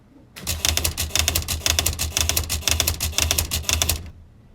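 A Smith Corona XL 1500 electric typewriter running its word-erase function, a rapid, loud burst of mechanical strikes in steady repeating groups lasting about four seconds, heard alone.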